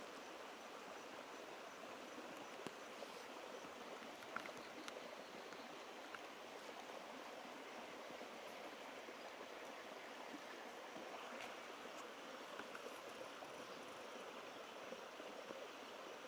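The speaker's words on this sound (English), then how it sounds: "We've got a river flowing in the background here. You can hear the water." A river swollen by recent heavy rain flows steadily in the background of a wildlife safari drive, a faint, even wash of running water with no talk over it.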